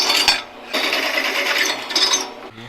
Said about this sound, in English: We'll drill those holes.